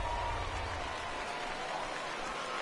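Home crowd in a baseball video game on PS4 cheering after a home run, a steady broad roar of noise sustained throughout at moderate level.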